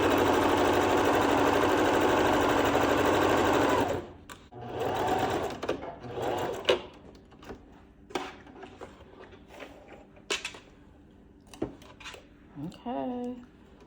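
A Jo Ann 200 HDT sewing machine runs in a loud, steady whir while stitching down the top of a cover, then stops and gives way to scattered clicks, handling noises and fabric shuffling, with a brief voice at the end.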